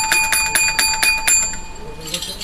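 A bright bell rung as a sound effect, struck in a quick series of about six or seven sharp, ringing hits before fading out, loud and close.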